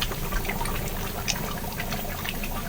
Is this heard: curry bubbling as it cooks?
yes